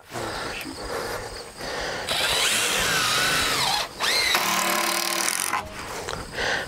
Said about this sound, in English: then we'll just go through and drill the holes.